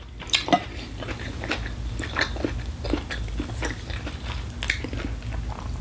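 Close, crunchy chewing and biting on vegetables from Indomie goreng instant noodles, with repeated soft crunches and occasional light clinks of cutlery, eaten alone without talking.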